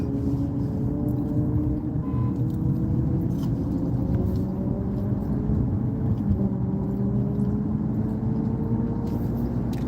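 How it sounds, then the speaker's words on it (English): Steady low car-engine rumble and road noise while driving through Houston traffic, continuous and fairly loud with faint rising tonal whines, no talking. "As usual, just out here dealing with this traffic."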